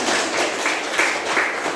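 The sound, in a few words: group applause, clapping hands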